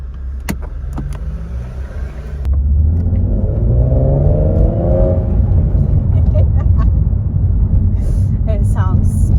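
A Nissan 370Z fitted with a custom Z-pipe exhaust idles with a deep rumble, then opens into loud revving and a rising acceleration roar that holds strong to the end, with a few sharp clicks near the start.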